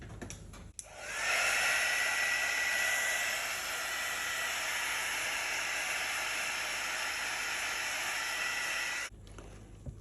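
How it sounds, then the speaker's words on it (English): A heat embossing tool blows steadily on poured acrylic paint, a loud continuous hissing whoosh that runs for about eight seconds before cutting off. "I'll just get it with the heat embossing tool."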